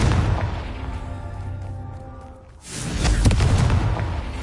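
A Confringo blasting spell in a wizarding game, a humming, rumbling charge-up that dips to near quiet. Then a sudden loud explosive burst booms and crackles for over a second.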